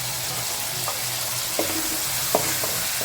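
Chopped tomato added to softened onions in a pan, sizzling and frying steadily with a few stirring scrapes, close and moderately loud, no talking.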